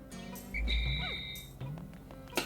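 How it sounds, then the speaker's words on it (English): Whistling used to command Pikmin in the Pikmin video game: short tonal whistle tones and chirpy game sounds, fairly quiet with no talk. "the constant whistling"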